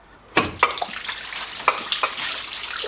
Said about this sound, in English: as I'm taking the pipes off, I'm just carefully collecting all the water on the garage floor